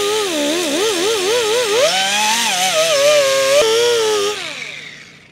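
A high, whining air tool cleaning a Land Rover LR4/LR3 front brake hub rim grinds with a wavering, rising pitch for about four seconds, then spins down and fades.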